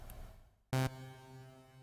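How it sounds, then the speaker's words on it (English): A Sylenth1 synth sounds one short, loud, bright note with stacked harmonics, then a long reverb tail rings on evenly and slowly fades, alone without any voice. "Let's enable the reverb and take a listen."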